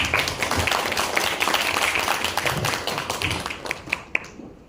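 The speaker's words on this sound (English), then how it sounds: "Let us welcome him with a big round of applause." An audience applauds as a speaker is welcomed on stage at a tech talk, with dense, moderately loud clapping that fades out near the end.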